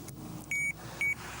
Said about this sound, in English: I'll switch on the bite alarm.